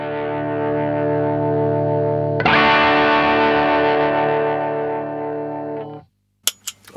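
An electric guitar runs through a Boo Instruments OD/TS overdrive pedal, a clone of the TS808 Tube Screamer, giving a sustained, saturated chord that swells louder partway through, rings out, then cuts off before a couple of short thumps.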